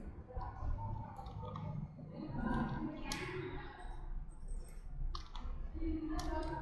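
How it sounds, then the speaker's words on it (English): Crisp mouse clicks on a computer as the register button is pressed, a few sharp isolated taps over a low murmur of room noise. "Click the register button."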